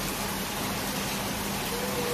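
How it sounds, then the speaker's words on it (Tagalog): Heavy rain pours down outside a building, a steady, even hiss of dense rainfall that stays constant and fairly soft throughout, with no talk over it. "Grabe lakas ng ulan"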